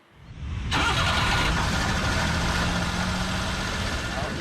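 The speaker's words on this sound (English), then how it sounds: "Behind me is a K truck. It's a lot smaller than the usual pickup truck that you would see on the road." A 1995 Suzuki Carry K-truck engine cranks and catches, then settles into a steady, close idle that holds to the end.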